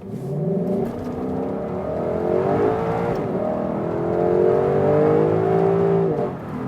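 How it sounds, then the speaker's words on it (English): A Lexus LC500 in sports mode accelerates hard on a wet road, its engine note climbing steadily through the gears with a continuous loud rising drone. "we can put it in sports mode. A little bit wet road today, but still some acceleration for you here"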